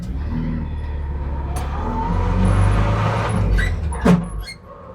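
A Honda-engined Porsche 911 drives around the block, its engine rumbling steadily close by with a low drone that swells in the middle, plus a brief sharper burst near the end.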